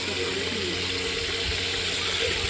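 Water pours into a wok (kadhai) in a home kitchen as a continuous, fairly loud rushing splash that lasts the whole stretch without a break.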